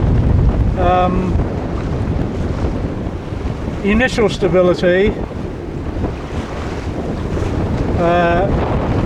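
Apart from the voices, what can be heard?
sailboat moving through wind and water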